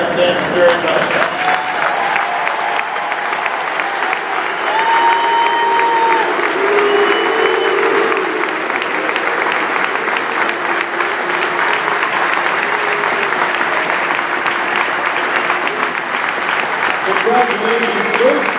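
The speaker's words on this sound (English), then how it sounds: "And let's have one more round of applause for Bruce Gossage" A large stadium crowd at Yankees Old Timers' Day applauds in a long, sustained roar of clapping and cheering, with a public-address voice and a faint whistle-like tone sounding through it.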